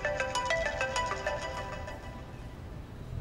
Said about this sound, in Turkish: Afet Hanım, senin telefonun.